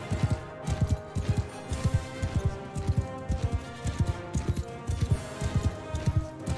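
A fast horse gallops in Mount and Blade Bannerlord, its hoofbeats landing in quick, steady clusters close up and loud, with no talk over them.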